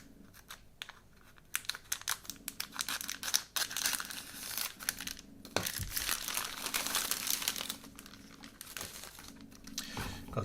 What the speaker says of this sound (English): Tiny pair of scissors to cut this open.